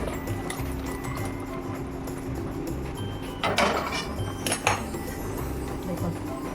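A metal pot of duck egg curry with chui jhal is lifted off a stove, giving a couple of faint, close clinks and scrapes over a low steady kitchen hum.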